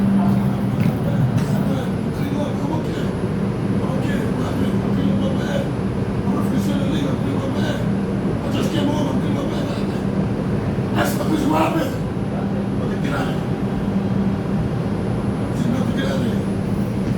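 Steady low rumble of a moving subway train fills the car, with people talking nearby and occasional squeals and rattles over the constant drone.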